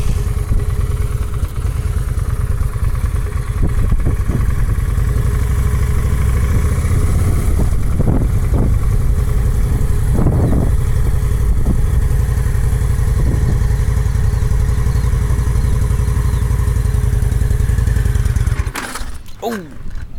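A motorcycle engine runs steadily at close range with a loud, even drone, then cuts out near the end; intermittent clatter and voices are heard over the engine.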